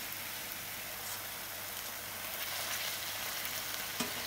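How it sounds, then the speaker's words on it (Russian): Gnocchi fry in hot olive oil in a pan over high heat, giving a steady, close, continuous sizzle and crackle with a faint spoon tap near the end and no voices. "И вот так дальше их просто поджариваю на высокой температуре."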